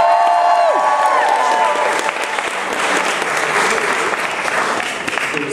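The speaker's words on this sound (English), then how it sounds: "Big round of applause for Frodo though" A crowd at a comic con cosplay competition claps loudly and continuously, with some cheering and whoops mixed in, the applause holding strong for several seconds.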